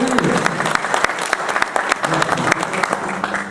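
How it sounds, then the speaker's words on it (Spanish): A conference crowd claps loudly to welcome a speaker, a dense round of applause with sharp individual claps standing out and a few voices faintly mixed in. "los voy a invitar a recibir con un fuerte aplauso"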